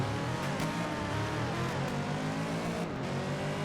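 A racing pickup truck's engine in the video game Car Parking drones loudly and steadily at high revs, a close, continuous roar with slight shifts in pitch.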